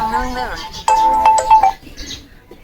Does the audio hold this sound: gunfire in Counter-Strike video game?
no